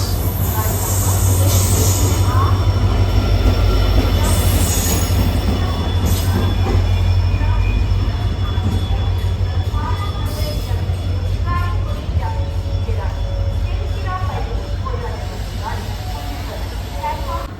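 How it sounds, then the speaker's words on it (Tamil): Rameswaram–Tiruchirappalli Express passenger train passing close by, a loud continuous rumble of wheels with squealing and clattering rail noise, and a few faint voices in the background. "ராமேஸ்வரம் திருச்சிராப்பள்ளி எக்ஸ்பிரஸ்."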